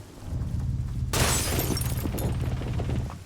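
Glass and a window barricade shatter in Rainbow Six Siege: a sudden loud crash breaks over a steady low in-game hum, with scattered debris clatter following for a couple of seconds.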